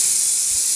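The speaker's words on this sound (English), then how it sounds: "अब मैं अपने comb के ऊपर ये hair spray यूज करने वाला हूँ" A short, steady hiss of an aerosol spray, bright and close, lasting under a second.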